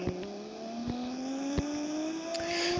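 Car in the Roblox game driving, its engine whine rising steadily in pitch as it accelerates, with a few sharp clicks and a brief burst of noise near the end.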